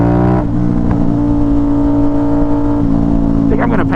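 An Aprilia RS660 motorcycle on the road, its engine loud and close, with a rising pitch as it accelerates to pass, dipping briefly before climbing again, and wind noise underneath.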